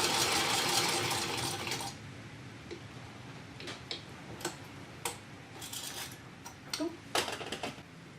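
Vintage Singer 128K hand crank sewing machine, a brief whirring run followed by scattered light mechanical ticks and clicks, close and fairly quiet, no talk.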